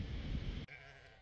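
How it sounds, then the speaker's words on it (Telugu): On a mountain trek, a sheep gives one loud, drawn-out bleat nearby that cuts off abruptly, leaving faint outdoor background. "ఎన్ని గొర్రెలు ఉన్నాయి తెలుసా మొత్తం గొర్రెలే"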